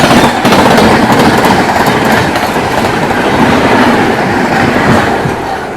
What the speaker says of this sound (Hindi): दोस्तों सामने से आ रही है पुरी से चलकर हावड़ा की ओर जाने वाली शताब्दी एक्सप्रेस